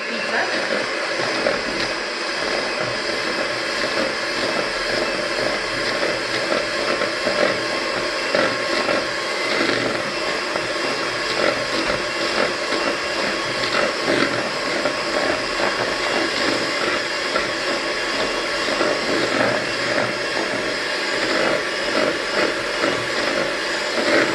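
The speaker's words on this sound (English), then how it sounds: "So now we're going to mix it with my hand beater" An electric hand beater mixes cupcake batter with a continuous, even whirring drone, close and loud throughout, with no pauses.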